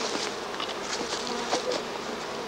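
Honeybees hum in a dense, steady swarm around an open beehive, the close buzzing constant with individual bees briefly rising louder as they pass near.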